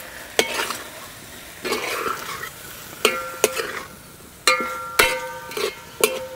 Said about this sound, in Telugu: మష్రూమ్స్ వేసుకుందాం. ఇదంతా 2-3 నిమిషాలు వేయించుకుందామండి.